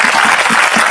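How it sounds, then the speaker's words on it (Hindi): A gathered crowd at a Hindu religious discourse bursts into loud, close, dense clapping for a visiting district judge. The sound is continuous and even, with no voices. "इनके लिए ताली बजा दीजिए"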